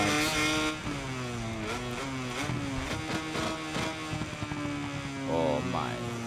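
A MotoGP racing motorcycle engine in the video game MotoGP 21 revs and shifts through rising and falling pitches, loud and close, with a voice talking over it at times.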